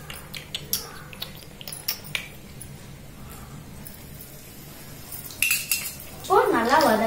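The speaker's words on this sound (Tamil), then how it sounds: "இப்போ இத நல்லா வதக்கிக்கலாம்." Garlic and curry leaves are stirred and sautéed in a tiny toy-sized pan, with light metallic clinks and scrapes of a small utensil coming in sparse taps, then a louder clattering burst at the end.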